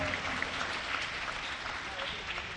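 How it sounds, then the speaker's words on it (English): Crowd applause at a ceremony in Hyderabad honouring Indian Olympic medalists, a steady wash of clapping throughout, fairly quiet and distant, with a voice likely speaking over it. "Can I hear a big round of applause"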